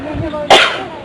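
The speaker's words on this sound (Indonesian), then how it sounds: "Maaf ini agak batuk biasa nih cuaca" A single short, sharp cough from a man giving a sermon, heard close after a brief murmur.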